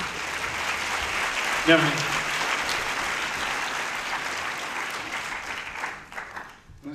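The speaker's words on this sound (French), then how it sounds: "Voilà, on peut les applaudir." An audience in a cinema hall applauds steadily as the film's producers come up onto the stage. A single voice briefly speaks a greeting over the clapping, which runs dense and continuous before thinning out toward the end.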